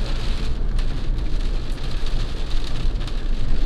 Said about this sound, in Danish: bliver våd, fordi det er begyndt at regne